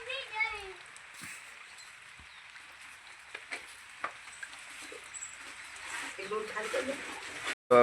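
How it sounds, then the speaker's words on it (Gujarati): Rain falls on a village, a steady soft patter with scattered sharper drips, and a voice briefly heard faintly in the background. "હજુ થોડો વધારે આવવા મળ્યો વરસાદ"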